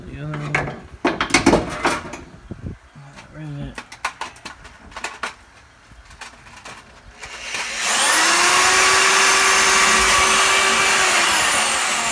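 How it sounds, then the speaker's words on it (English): A few sharp clicks and clunks of a riveting tool sound up close on a Mustang car panel, then a power drill whines steadily for several seconds drilling the panel. "now you can rivet it in and then drill the other"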